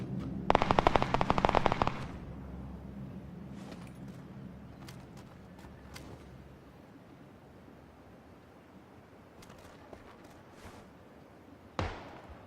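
Loud machine-gun burst in the battle royale game PUBG, a fast rattling volley up close, then quiet ambience with scattered distant shots and a final sharp crack.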